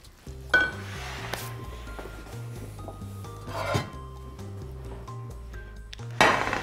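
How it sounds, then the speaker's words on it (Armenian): A spoon scrapes and stirs through a spinach and cheese filling in a bowl, soft rubbing strokes with a few sharper swipes, set against quiet background music. "Լավ խառնում ենք, որից հետո կտեղափոխենք ջեռոցի թափանցիկ տապակի մեջ։"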